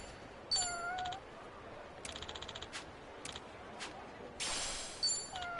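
A hungry house cat meows repeatedly, several high, close calls spaced over a few seconds, with a brief rapid clicking burst in between and quiet background otherwise.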